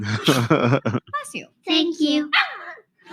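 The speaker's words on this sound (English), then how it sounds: "Now tell me which one of you just barked." A dog barks a few short yips in a kitchen amid overlapping speech, including a voice.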